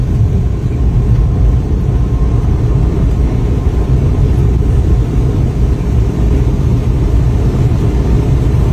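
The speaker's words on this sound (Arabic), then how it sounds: "تبدلت الرنه تاع الموتور" A car engine runs continuously at a steady, loud, low rumble, close up with no clear revving changes and no talk.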